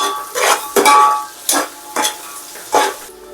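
Onions and green chilies fry in a pan for chicken biryani, with a steady sizzle and several scraping stirs of a utensil against the pan at irregular intervals, close and loud, with no voices.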